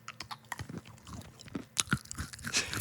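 Crunchy dark chocolate bar bitten and chewed up close, a series of sharp crisp cracks followed by wet chewing and crunching, no talking.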